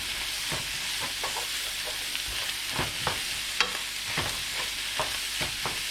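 Bitter melon and eggs, seasoned with granulated chicken soup base and a little salt, are stir-fried in a pan: a continuous sizzle broken by frequent close clacks and scrapes of a utensil against the pan.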